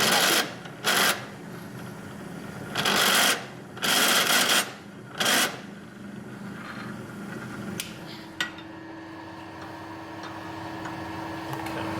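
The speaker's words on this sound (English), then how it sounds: "drop the spot drill in that hole just to blow it out a little bit" A spot drill countersinking a hole for nails in a workshop: a few short bursts of grinding, rasping cutting, each about a second long, followed by a steady low hum and a faint click, close and without speech.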